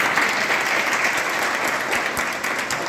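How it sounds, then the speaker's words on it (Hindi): Enthusiastic applause from a crowd, dense and sustained clapping throughout, fairly close and loud. "और अमित सर के लिए आप लोग एक बार जोरदार तालियां बजाएं।"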